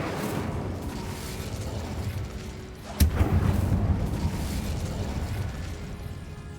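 Fiery Confringo and Incendio spell blasts in the game Hogwarts Legacy, a sharp explosive crack followed by a rumbling, roaring burn over a continuous low, noisy bed.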